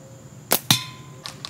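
An Icarus slingshot firing a 5/16 steel ball at a target: two sharp, close snaps in quick succession, then two fainter ticks shortly after.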